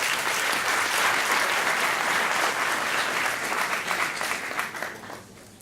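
Applause fills a hall at an evening public science-outreach show in France, a dense steady clapping from a large audience that holds loud and even before tapering off at the end.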